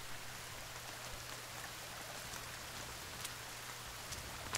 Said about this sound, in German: Jetzt regnet es rein.